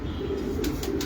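A caged pigeon gives a low, throaty coo that rumbles continuously up close, with a few sharp clicks or rustles near the end and no talking.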